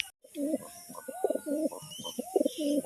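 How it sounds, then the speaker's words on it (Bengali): Pigeons coo in a close, soft series of throaty, rolling calls, several phrases in a row against a quiet background. "পায়রাগুলোর কত সুন্দর ডাক"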